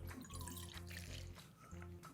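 A cup of water is poured into a bowl of Betty Crocker cake mix, a soft, quiet splashing trickle that lasts about two seconds with no talking.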